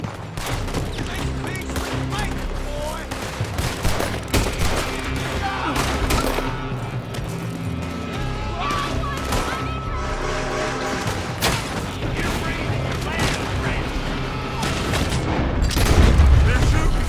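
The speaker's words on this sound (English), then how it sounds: "They're shooting from that building!" Gunfire in Red Dead Redemption 2 during a chapter 6 shootout, repeated shots and booms layered over game music and shouting voices, loud throughout and swelling toward the end.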